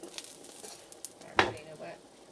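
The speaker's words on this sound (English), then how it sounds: "so these are going back in the frying pan." Zucchini pieces returned to a hot frying pan, a soft sizzle with brief clinks and scraping of utensil against pan, ending in a sharper crackling burst.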